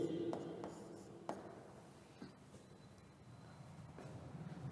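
Chalk or marker strokes on a classroom board during a biology lesson, a few distinct scraping taps spaced across a quiet room, fairly close and moderately loud.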